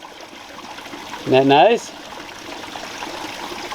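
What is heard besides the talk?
creek water flowing around a boulder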